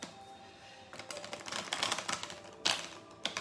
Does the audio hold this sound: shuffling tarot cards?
yes